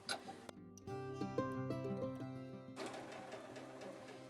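A home sewing machine runs in steady bursts while stitching across a pillow's envelope-style closure to secure the seam, its mechanical hum close and fairly loud with a brief pause before it starts up again.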